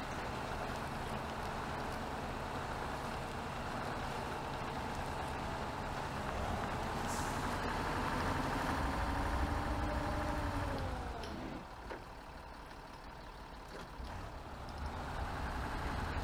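A truck engine in the MudRunner (Spintires) game labours uphill in four-wheel drive, a steady low drone that rises in strain, then dips and settles near the end, with no talk.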